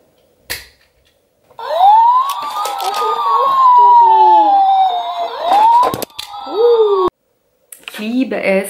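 A wailing electronic toy ambulance siren in a playroom sweeps up and down, loud and close, cutting off and restarting, with a voice chiming in near the end.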